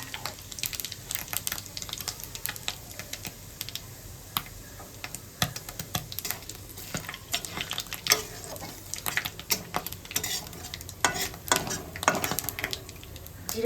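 Two bay leaves, a dried red chilli and whole cumin seeds fry in hot oil, giving a quiet, steady sizzle broken by small crackles and the scrape of stirring.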